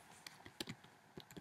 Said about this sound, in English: So let's type in something.